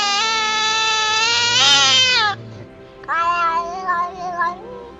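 A cat meows twice in a horror video game: a long, loud, drawn-out wail, then after a brief gap a second, shorter meow, close and clear with no talking.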